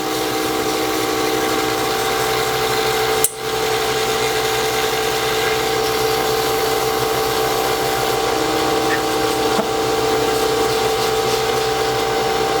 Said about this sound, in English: You can see the burnishing compound that's forming on the sandpaper that's assisting in polishing the surface of the wood.